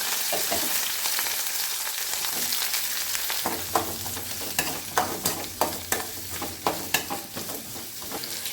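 Onions, fennel seeds and curry leaves fry in hot oil for a Tamil egg kuzhambu masala, a loud steady sizzle with a run of regular spoon scrapes and knocks in the second half.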